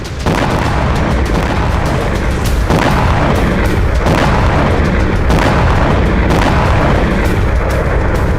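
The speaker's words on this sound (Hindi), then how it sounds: "जबरदस्त ब्लास्ट, आग का गुब्बार और बारूद से सना धुआं।" Missile strike explosions in Russia during the Russia-Ukraine war, loud booming blasts in repeated heavy bursts filling the whole stretch, dense and continuous with no talk.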